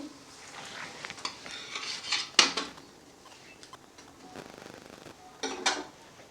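A fried egg omelette is lifted out of the pan onto a plate, with brief metallic scrapes, taps and clinks of a spatula against cookware over a faint sizzle.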